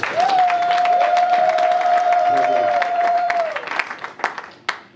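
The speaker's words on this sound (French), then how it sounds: "nous l'acclamons très très fort pour la gloire" A church congregation applauding during a communion worship service, a dense wash of clapping and crowd noise with a long sustained high tone over it, fading near the end into scattered claps.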